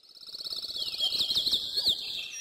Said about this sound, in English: Look at all those birds!